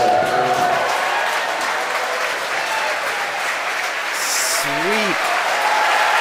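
Applause carried on a SpaceX live feed as the first stage lands during the NASA TESS launch: steady, dense crowd clapping with a continuous roar, and a voice speaking briefly over it.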